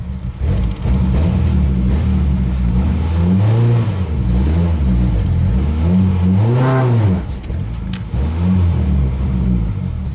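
A 1994 Ford Ranger pickup pulled from an abandoned barn, its engine revving loudly up and down in repeated surges as the truck on flat tires strains to move, close and with no voices.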